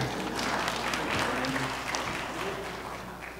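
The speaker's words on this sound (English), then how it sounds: "Give yourself a round of applause on that." Church congregation applauding during a Baptist Sunday service, a steady mass of clapping lasting throughout and gradually softening toward the end, with faint voices and a low musical tone beneath.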